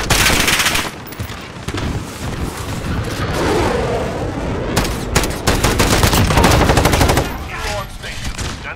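Rapid FAL rifle fire in the video game Modern Warfare, loud close bursts of automatic shots with booming explosions and crackling battle noise around them, and voices briefly heard in the mix.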